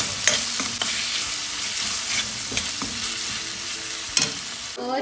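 Vegetables with salt stirred and fried in a pan for dry aloo gobhi: a steady hiss of frying with scattered spatula scrapes and a few louder knocks, close and without talk.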